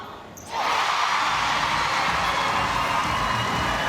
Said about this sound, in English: The crowd, they want it. You can hear them in the background.